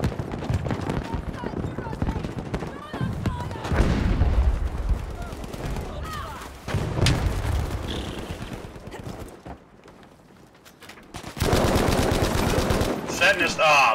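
Rapid bursts of gunfire and explosions in the video game Battlefield V, loud and dense with brief lulls, with players talking over the shooting.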